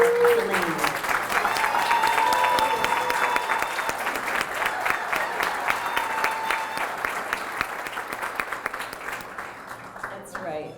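Audience at a chamber of commerce business awards dinner applauding loudly, a dense burst of clapping that gradually thins and fades toward the end.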